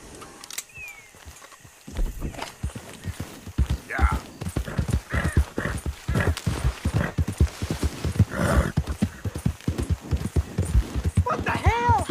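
Hooves clip-clop in a quick rhythm over ground in the video game Red Dead Redemption 2, with a horse whinnying near the end and brief snorts along the way.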